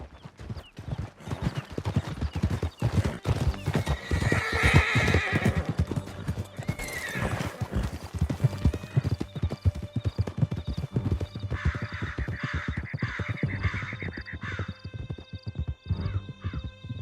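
Horses gallop in Red Dead Redemption 2 during a canyon escape, hooves pounding in a fast, steady rhythm with loud whinnies breaking out over the running.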